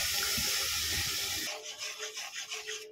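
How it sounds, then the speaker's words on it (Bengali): A cup of water poured onto mango pieces and sugar for mango pickle, a steady close splashing pour that stops halfway, followed by quieter wet swishing and trickles. "এক কাপের 1 কাপ জল দিয়ে দেবো।"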